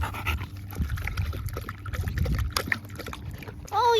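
A dog drinks from a water bowl and spills it at a park, with close wet lapping, panting and dribbling splashes in irregular bursts, then a short high whine at the end.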